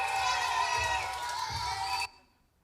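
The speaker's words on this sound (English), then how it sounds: "So that's the crowd outside getting ready for their food." A crowd of about 350 children waits outside for food, their massed shouting and excited chatter filling the air as a loud, steady wash before cutting off abruptly.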